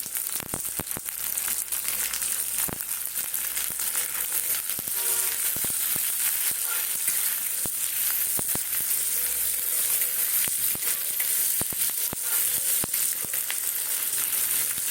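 Meat fries in a pan with capsicum added, a steady loud sizzle running throughout with scattered crackles and stirring scrapes, close by and continuous, with no voices.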